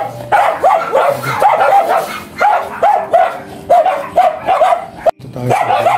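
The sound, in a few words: dogs barking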